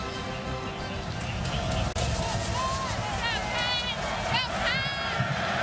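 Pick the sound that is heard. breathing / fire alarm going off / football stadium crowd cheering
football stadium crowd cheering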